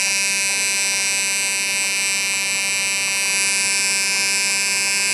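A small pulse motor driven by a reed switch spins at high speed, giving a loud, steady electric whine and buzz that holds throughout with a slight rise in pitch.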